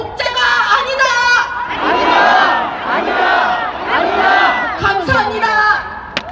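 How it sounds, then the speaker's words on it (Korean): A crowd at an outdoor political rally by a plaza tower chants a slogan in unison, loud, rhythmic waves of massed voices rising and falling over several seconds, with shouts between phrases. "자유는 공짜가 아니다를 모두 다 함께 외칩시다"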